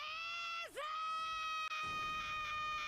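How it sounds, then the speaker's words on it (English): An anime character from One Piece lets out a long, sustained high-pitched scream with strong tonal overtones, loud and continuous, with one brief dip partway through and a fainter background texture behind it. "A scream only Luffy can do."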